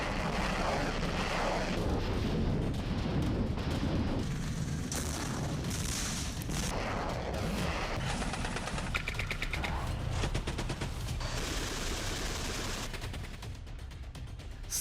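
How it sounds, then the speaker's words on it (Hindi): Artillery and rocket launchers fire near the Russia-Ukraine border in a continuous loud rumbling barrage. Rapid crackling salvos and deep booms run throughout, with an aircraft-like roar under them. "रूसी मीडिया का दावा है कि इमारत को पुतिन सेना ने रॉकेट लॉन्चर से नेस्तनाबूद किया है।"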